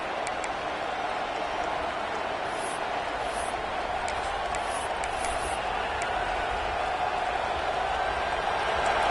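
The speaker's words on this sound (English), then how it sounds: "And this crowd coming to life here, trying to help the defense get a stop with the offense pinned back." An American football stadium crowd roars steadily as a continuous wash of cheering noise, holding level throughout.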